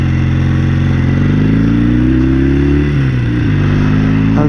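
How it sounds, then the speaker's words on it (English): A 1969 Norton Commando Mk1 motorcycle rides along with a loud, steady engine drone that shifts pitch slightly, with tools rattling in the tail section beneath the engine noise. "Tools rattling in the tail. Again, sounds awful."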